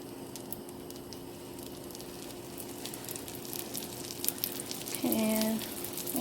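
Potstickers drop into hot butter in a pan and fry with a soft, crackling sizzle that swells near the end, accompanied by light clatter and a brief tonal whine.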